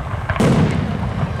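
A loud, close firework burst at a Santa's arrival fireworks display sets off a sustained, booming crackle of shells that keeps rumbling on to the end.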